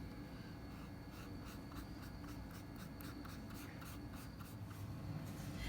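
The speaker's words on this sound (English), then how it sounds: "I'm gonna go over it with this Mod Podge just to make sure it stays stuck on here real good" A brush spreads Mod Podge over a sticker on a Dollar Tree Thanksgiving keepsake craft, making soft, repeated close-up rubbing strokes in a steady rhythm over a low background hum, with no talking.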